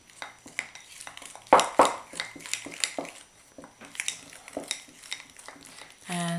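Sweetener being stirred into a raw chocolate mixture in a bowl, a series of close clinks and scrapes of a utensil against the bowl with a couple of louder knocks, no talk.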